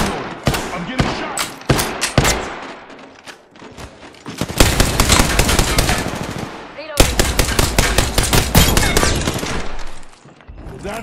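Heavy automatic gunfire from the Apex Legends video game, played on a Nintendo Switch, comes in loud rapid bursts: scattered shots at first, then long sustained volleys with a short break between them before the firing trails off.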